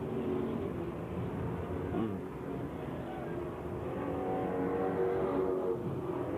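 Limited stock race cars circling Langley Speedway in Hampton, Virginia, a continuous field of engine drone at moderate distance with cars whining past, faint commentary underneath.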